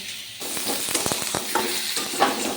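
Spice paste for aloo dum, a potato curry, frying in a pan with a steady close sizzle and a few scraping stirs, no talking.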